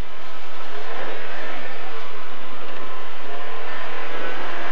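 A rally car on a Swedish gravel special stage roars away from the start line, its engine loud and continuous with sustained broadband road and gravel noise throughout.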